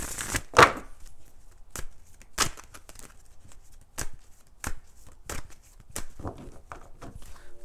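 Tarot cards being shuffled and laid down in a reading, with a burst of riffling near the start followed by scattered soft slaps and flicks of cards, close and fairly quiet with no talking.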